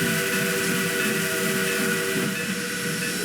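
A steam locomotive whistle sounds in one sustained, steady, hissing blast, moderately loud and alone.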